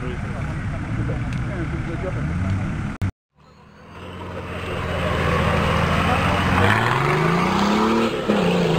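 A 4-litre American off-road vehicle engine revs loud and close, a steady roar that cuts out briefly and then climbs again in rising pitch sweeps, with voices talking over it.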